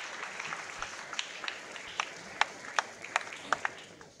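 A church congregation offering applause to the Lord during a service, thin scattered clapping with a handful of sharper, louder individual claps standing out as it tapers off.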